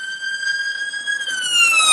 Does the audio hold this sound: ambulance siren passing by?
yes